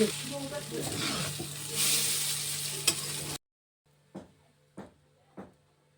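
Egg chow sizzling and being stirred in a frying pan, a steady loud fry for about three seconds, then a hush broken by a few separate scraping clinks of the spatula.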